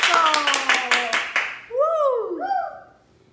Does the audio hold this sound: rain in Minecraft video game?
no